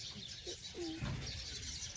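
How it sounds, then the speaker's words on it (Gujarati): A pair of soft, low pigeon coos close by, over a steady hiss of background noise. "सुबह सुबह कबूतर आ गए हैं खाने के लिए"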